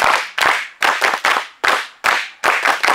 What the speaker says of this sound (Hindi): ताको पे गोटे ताली हे जाऊ